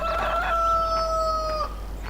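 Chickens in the farming game Farming Simulator 2013 let out a loud, drawn-out, rooster-like crowing call that holds steady for over a second before trailing off, with no talk over it.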